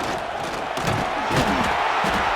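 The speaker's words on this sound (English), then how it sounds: "This crowd ready to make its presence known." Crowd noise fills a college football stadium at a Michigan home game against Oklahoma, a steady loud roar of fans that swells slightly midway and holds throughout with no talk.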